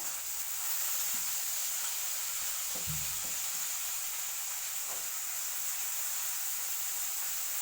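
Brinjal sautés in a pan for drumstick sambar, a continuous hissing sizzle with a few soft stirring knocks, close and steady.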